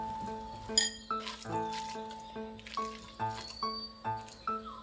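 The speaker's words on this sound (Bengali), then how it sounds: "এবার সব উপকরণ আমি ভালোভাবে মিশিয়ে নিচ্ছি।" Chopped onion, spices and coriander leaves being mixed in a bowl, with a utensil clinking and scraping against the bowl in a steady, repeated rhythm, close and clear, with no talking.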